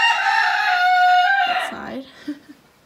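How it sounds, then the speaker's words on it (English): A farm rooster gives one loud, close crow that rises and holds before trailing off, followed by a couple of short clucks in a goat barn. "That rooster has not shut up."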